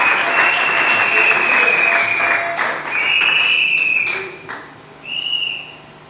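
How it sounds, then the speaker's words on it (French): A church congregation greets the arriving patriarch with loud, sustained applause and cheering, mixed with long shrill whistles that rise and fall before the clapping tapers off. "Lorsqu'il s'avance, nous acclamons très fort le Seigneur de gloire."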